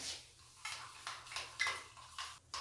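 Hair dye being stirred and mixed in a small container, giving soft scraping and clinking taps in a few short bursts, close and fairly quiet with no talking.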